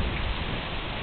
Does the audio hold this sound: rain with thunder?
yes